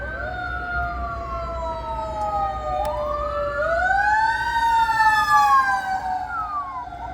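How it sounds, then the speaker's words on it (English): A loud wailing ambulance siren sweeping up and down in pitch, growing louder as it passes close by over a low rumble of traffic. "Looks like just the ambulance right now."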